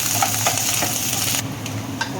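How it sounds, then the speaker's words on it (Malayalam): Chopped shallots and curry leaves fry in a pan of hot oil, a close, bright sizzle with a few stirring clicks that drops sharply in loudness about halfway through. "ഇനി നമ്മൾ കുറച്ച് ഉള്ളിയും കരിയാപ്പിലയും ഇങ്ങനെ അരിഞ്ഞ് വെച്ചിരുന്നിട്ട് ഒന്ന് മൂപ്പിച്ചെടുക്കുവാണ്"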